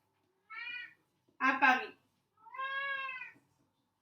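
Three separate cat meows come one after another in a quiet indoor room, the middle one short and double-pitched, the last long and drawn out, all close and distinct, with a brief spoken phrase in between.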